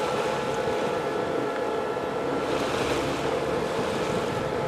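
A sailboat motors along at sea under cloud off La Gomera, its steady engine drone blending with continuous wash of waves and wind buffeting the microphone, with no talking.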